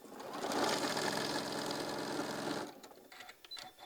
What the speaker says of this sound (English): Line it up by edges and sewing it straight down.